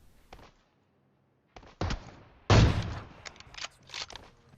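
Sniper rifles fire in PUBG Mobile during a sniper-versus-sniper exchange near a house in Pochinki. A few sharp shots ring out, with one loud, booming report near the middle and scattered quieter impacts around it.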